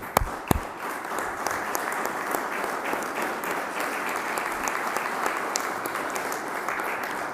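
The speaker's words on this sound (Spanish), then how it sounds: "a quien doblamos los aplausos que ya le dedicamos." An audience at a press yearbook presentation applauds steadily, a thick, even wash of many hands clapping that carries on for several seconds with no voices over it.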